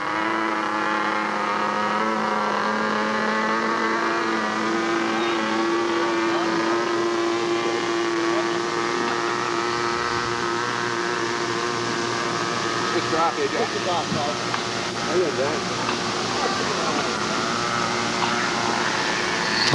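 A model Turbo Beaver airplane on floats making a flyby, its engine a steady buzzing whine that holds for a long stretch and shifts in pitch as it passes.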